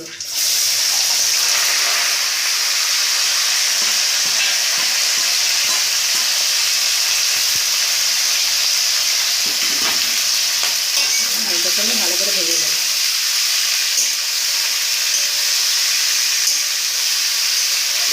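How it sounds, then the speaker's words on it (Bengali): Potato pieces frying in hot oil in a pan after papad, with a loud continuous sizzle and repeated scraping strokes of a spatula stirring them, close up and without talk. "এবার ভেজে নেবো আলু"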